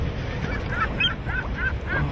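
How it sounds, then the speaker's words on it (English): Seagulls call in a steady series of about six short, nasal cries against a constant background rumble. "You know it's bad when even the seagulls start laughing at you."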